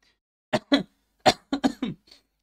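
A cluster of several sharp, close coughs in quick succession, two then a pause, then four more, with no talking.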